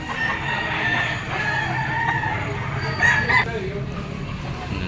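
A gamefowl stag rooster crows among other clucking fowl, the call rising briefly and fairly faint against a busy background, with people talking nearby.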